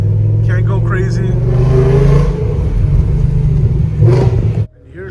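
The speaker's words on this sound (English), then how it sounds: "My 2006 BMW E60 M5 V10, all in its glory." A 2006 BMW E60 M5 with a V10 engine drives along in a steady, loud, low engine rumble heard from inside the cabin, with a voice talking over it, until the engine note cuts out near the end.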